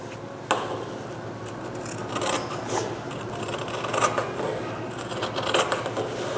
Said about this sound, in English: we want to trim about half of the seam allowance from our toe and from our